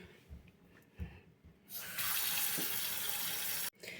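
Water runs from a tap over honey fungus mushrooms in a colander, a loud steady splashing rush that starts after some quiet handling sounds and cuts off abruptly near the end.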